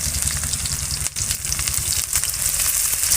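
Green chillies and chopped onion frying in hot oil with panch phoron, a loud, steady close sizzle with crackling throughout and a brief dip partway, no talking.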